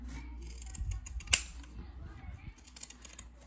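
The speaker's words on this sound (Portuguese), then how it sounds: "vocês podem até cortar aqui com a tesoura de picote" Pinking shears snip through a paper Easter gift bag with one sharp, close cut amid soft handling noises and a quiet voice nearby.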